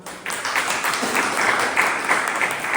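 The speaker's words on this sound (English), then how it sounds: "A big round of applause for her." Steady applause from a meeting audience at a Toastmasters club, welcoming Toastmaster Kaveri, dense clapping filling the room and holding at an even level throughout.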